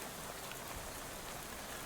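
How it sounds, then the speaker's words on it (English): Steady rain splattering against a bus window in the video game Shadow Over Loathing, a soft, even hiss of drops that runs unbroken and fairly quiet throughout. "soon you're dozing off to the sound of the rain splattering on the window beside you"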